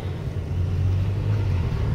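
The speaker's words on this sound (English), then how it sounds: "More traffic." Road traffic produces a steady low rumble that swells slightly, heard continuously and up close with no voices.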